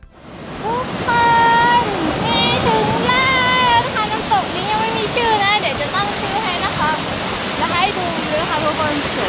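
A waterfall near Pa Bong Piang in Chiang Mai, Thailand, roars as a loud, steady, close rush of falling water throughout, with someone talking over it.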